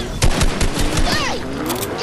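Rapid gunfire bursts crack out in a Fortnite match, a quick series of loud shots in the first second followed by more scattered firing, with a player shouting over the action.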